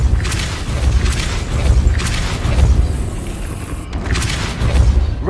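Depulso, a force-push spell in the Hogwarts Legacy video game, is cast in quick succession. Three punchy, booming magical blasts land about two seconds apart over a constant rumbling bed.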